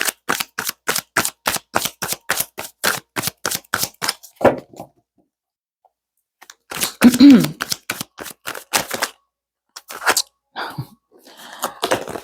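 Tarot cards being shuffled give a rapid, even run of crisp riffling bursts. After a pause come a few more scattered shuffles and rustles, with a brief voice-like sound in between.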